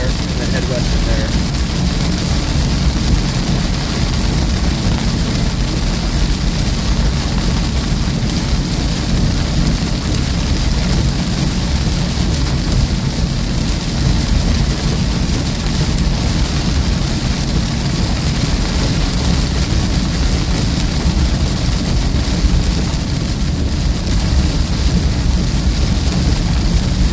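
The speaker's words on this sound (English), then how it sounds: "Driving through this rain." Heavy rain drums steadily and loudly on a vehicle driving through a storm in southwest Iowa, a dense continuous roar with no breaks for the whole stretch.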